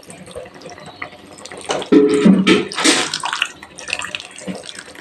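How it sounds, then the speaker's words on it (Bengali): Hot water pours into a pan on the gas stove while katla fish curry cooks. A loud, close splash and gush lasts about a second and a half, then fades to a softer trickle. "একটু গরম জল অ্যাড করে দিচ্ছি।"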